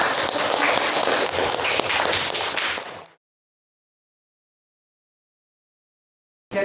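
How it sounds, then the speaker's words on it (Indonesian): A classroom group claps for a student group, a dense burst of applause for about three seconds before abrupt silence, with a short return of sound at the very end. "Kita beri tepuk tangan dulu untuk kelompok"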